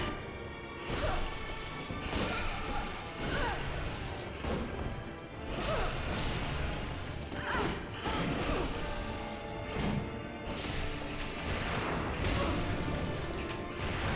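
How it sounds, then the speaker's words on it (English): Gunfire in the video game Borderlands 4 comes in repeated bursts of sharp, close shots, with mechanical clatter and crashing impacts mixed in across a dense, busy stretch. "Yeah, gunshots."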